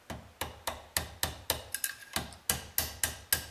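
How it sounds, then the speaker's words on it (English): Brass hammer striking a punch to seat the gas tube on a lightweight AR-15 build, about a dozen sharp metallic taps in a steady rhythm, close and clear with no talking. "I'm gonna use a brass hammer."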